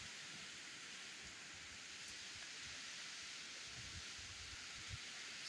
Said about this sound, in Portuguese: Vai chegando uma chuvinha agora.